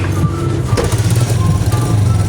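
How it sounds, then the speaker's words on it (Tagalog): A motorcycle taxi tricycle carries riders through the Philippines, its small engine putting out a loud, close, continuous rattling buzz with a bumpy, pulsing texture. "nakasakay na po tayo ng tricycle"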